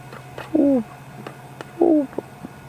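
A ring-necked dove coos twice in African bush in late afternoon, each short, mellow two-part call clear against a quiet background with faint clicks and distant insect-like hum.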